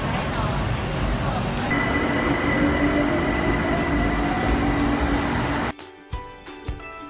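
A Bangkok BTS metro train running between Ekkamai and Nana rumbles steadily with a sustained whine, then slows and goes quiet except for a few knocks and clunks.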